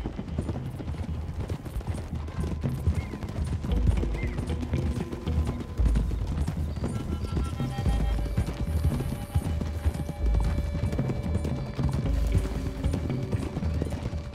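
Horse hooves clop steadily at a trot in Red Dead Redemption 2, with occasional whinnies and background game sounds layered underneath.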